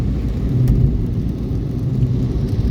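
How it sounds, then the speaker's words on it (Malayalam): Heavy rain during a drive through Mecca, a steady dense low rumble of downpour and road noise with a few sharper splashes, loud and continuous, no voices. "മഴ ലേശം ഒന്ന് ചോർന്നുണ്ട്. ശക്തമായ മഴ ഒന്ന് കുറഞ്ഞത്."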